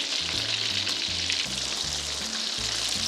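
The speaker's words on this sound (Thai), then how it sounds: "ทอดให้เหลืองสักนิดหนึ่งครับ" Minced pork frying in a pan until golden for a Thai salted-fish and mango salad. It gives a steady, dense sizzle throughout, with soft lower bumps from the pan, and no one speaks over it.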